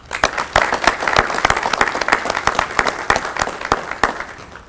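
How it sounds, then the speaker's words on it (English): An audience at an elementary school assembly claps for the children, a loud, close burst of many hands with sharp individual claps standing out, sustained steadily before tapering slightly at the end. "So let us give them all a round of applause."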